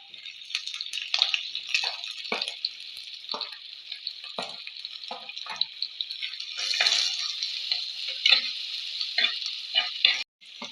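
Crushed ginger, garlic and small shallots fry with fenugreek seeds in a pan, giving a steady bright sizzle with scattered pops and stirring clicks. The sizzle stays moderately loud and close throughout, with no talk.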